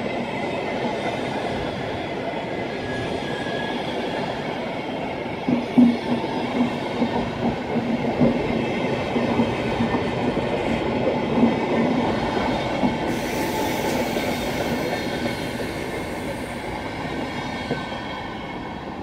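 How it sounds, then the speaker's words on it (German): A regional RE1 train pulls into a platform at Berlin Hauptbahnhof with a steady rolling rumble, faint wheel squeal and a few soft clacks, fairly close and with no talk. "Gleis 12, Einfahrt RE1 nach Eisenhüttenstadt über Erkner."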